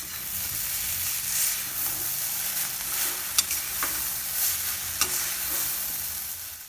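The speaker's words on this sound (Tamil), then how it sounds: "இந்த மாதிரி இன்க்ரீடியன்ட்ஸ் எல்லாம் நல்லா டோஸ்ட் ஆகிற சத்தம் நல்லா கேட்கணும்." Egg noodle ingredients toasting in oil over a high flame in an iron kadai, giving a steady, close frying sizzle with a few sharp crackles and stirring scrapes throughout, no voices.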